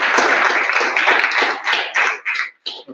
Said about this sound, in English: We should applaud Congressman Joaquin Castro